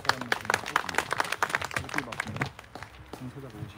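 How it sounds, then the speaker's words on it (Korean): Clapping from attendees at a Korean labor union memorial service, scattered sharp claps in a steady patter that thins out toward the end, with voices mixed in. "큰 박수로 맞아주십시오."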